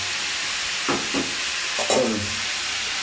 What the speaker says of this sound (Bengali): দিয়ে ফুলকপিটাকে ভেজে নেবো সুন্দর করে, সুন্দর করে ভেজে নেবো।